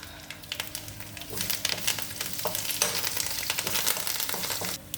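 Curry leaves and tempering spices crackle and sizzle in hot ghee for dal, a loud continuous frying hiss with bursts of popping that swell after the first second and stay steady to the end.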